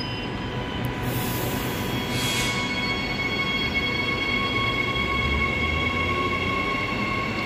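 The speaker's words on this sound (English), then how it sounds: "EMU 66 and EMU 70 departing platform 2 for a Butler service" A Transperth EMU electric train at Joondalup station runs in a steady, loud drone with faint rail squeal and hiss, continuous throughout with no voices.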